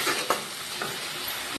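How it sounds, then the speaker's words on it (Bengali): Spice masala sizzles in a pan as it is stirred and fried, a dense close hiss with a couple of scraping strokes before it cuts off abruptly. "মশলাটা আমার ভালো করে কষানো হয়ে গেছে"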